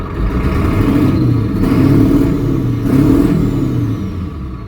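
A Ford Powerstroke diesel in an OBS pickup truck revs in repeated loud throttle blips after a no-throttle-response repair, its clattery roar rising and falling twice over a constant idle.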